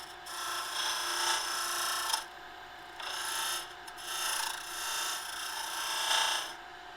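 A skew chisel takes a peeling cut on a blackwood twig pot spinning on a wood lathe, giving steady rasping bursts of shaving in several long passes with brief pauses between them, close and clear, without any voices.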